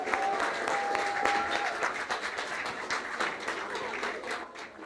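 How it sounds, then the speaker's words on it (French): An audience at a church Christmas celebration applauds the children, sustained dense clapping filling the room at moderate level with little talk over it. "On peut encore les applaudir."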